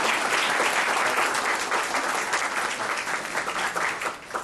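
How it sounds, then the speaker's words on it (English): Audience applause after a presentation on Iran sanction laws, dense sustained clapping from a room full of people, loud and even before thinning slightly toward the end. "You can go ahead and clap."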